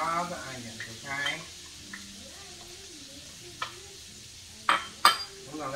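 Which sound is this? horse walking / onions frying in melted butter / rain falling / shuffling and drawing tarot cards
onions frying in melted butter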